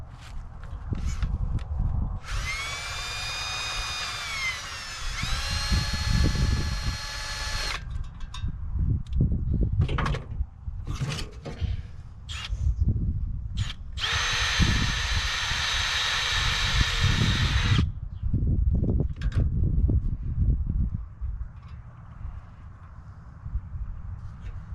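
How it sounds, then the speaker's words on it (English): Two sustained, loud bursts of a power drill whirring steadily for a few seconds each as it drills a hole in wood outdoors, with clattering handling noises and rustling in between. "I'm gonna drill a hole in that."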